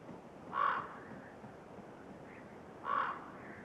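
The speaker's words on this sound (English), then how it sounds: "Ravens swoop down from their towering perch, watching for an opportunity to share in the feast." Two hoarse caws from ravens, evenly spaced a couple of seconds apart, faint and somewhat distant over a quiet outdoor background.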